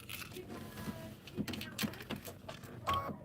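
A sewing machine stitches a quilt pattern in short bursts with brief pauses between them, close but quiet.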